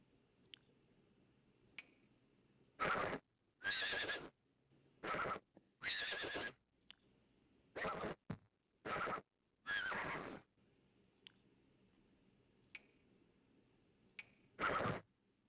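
Horses neighing in The Sims 4 Horse Ranch game, a series of loud whinnies in separate bursts with quiet gaps and faint clicks between them.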